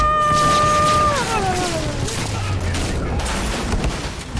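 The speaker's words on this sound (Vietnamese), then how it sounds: "Nó bắn." Gunshots in Cyberpunk 2077 ring out over a whining tonal game sound that bends downward, leaving a low rumble and scattered loud cracks, with a voice speaking faintly beneath.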